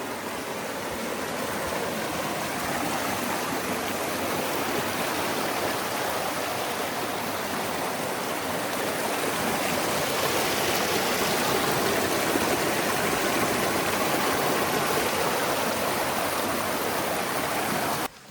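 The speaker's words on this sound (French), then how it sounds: "Une petite fontaine d'eau." A small water fountain flowing steadily, a continuous even hiss of splashing water held close and constant throughout, with no voices.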